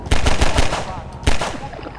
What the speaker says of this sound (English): Why does everything shoot me?